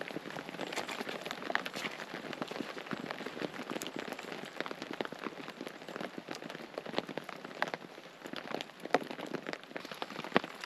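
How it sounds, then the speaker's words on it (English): Steady rain drums on a taut tarp at a woodland camp, a dense patter of drops with sharper close taps scattered throughout, continuous and fairly loud. "I love the sound of rain hammering down on the tarp when you're camping in the woods."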